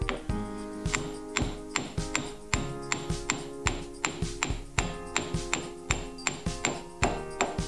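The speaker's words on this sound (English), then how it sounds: "with a few gentle taps of the hammer it slots in place" Steady series of sharp metallic hammer taps, roughly one or two per second, ringing with a bright tone as a CV joint is driven onto a drive shaft for a Volvo V50 conversion to a Nissan Leaf motor.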